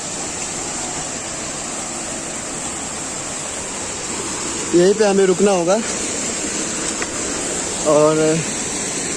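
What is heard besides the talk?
flowing river in the jungle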